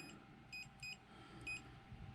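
Three quick, faint electronic beeps chirp from a BLUETTI AC200P portable power station over a low background hum, two close together and one after a short pause.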